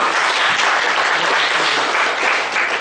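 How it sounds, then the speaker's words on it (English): An audience at a professional chartered accountants' branch seminar gives a big round of applause after a presentation, a thick, continuous wash of clapping, loud and uninterrupted. "Big round of applause, ladies and gentlemen."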